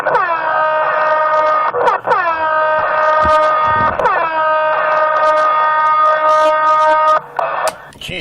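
A loud, blaring air horn sounds in long sustained blasts, broken by a couple of short gaps, with faint background noise beneath.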